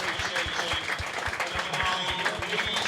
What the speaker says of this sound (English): up he comes off the field, and the applause deserved